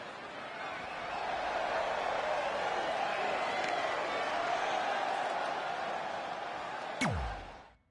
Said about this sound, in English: by the sound of this crowd, I'm not sure this is who they expected to win this one